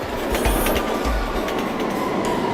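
A London Underground subway train rumbles along the tracks with steady rail noise and a few low thumps, loud and continuous, with no talking.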